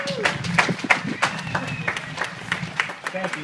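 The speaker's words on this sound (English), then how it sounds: "So give them a round of applause, please." Audience at a talk on cancer and a twin brother's leukemia applauding, with bursts of clapping that rise and thin out unevenly while voices speak over it.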